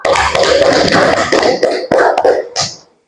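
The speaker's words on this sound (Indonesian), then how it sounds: "tepuk tangan dulu untuk kelompok 2" A classroom of students claps for group 2 during an IPA and Bahasa Indonesia lesson, a loud, close burst of hand clapping that thins into a few scattered claps and stops.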